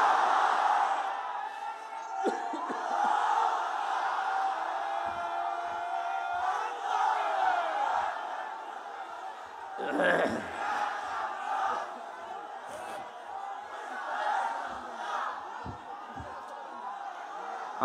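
A vast crowd at an outdoor Islamic religious gathering in Bangladesh roars a takbir chant in unison, a loud swelling mass of voices rising and falling in repeated bursts over the steady hum of the throng.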